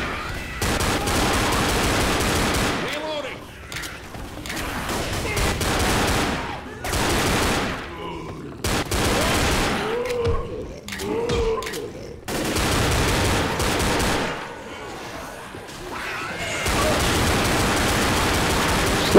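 Dense, sustained automatic gunfire from the zombie shooter game Left 4 Dead, in long roaring bursts broken by short gaps, loud and continuous with no clear talk over it.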